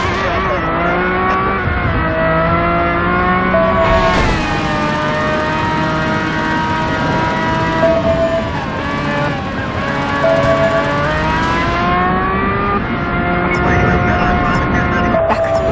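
Car engine revving hard and climbing through gears during a police chase in the driving game Driver: San Francisco, loud and continuous with pitch dropping at each shift, tires faintly squealing and game voices underneath.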